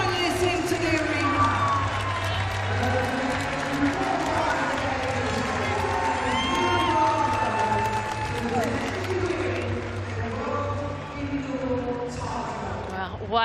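Indoor athletics arena crowd at a world indoor championships women's long jump final, cheering and applauding steadily throughout as finalists are welcomed, with a loud sustained roar and low hum underneath.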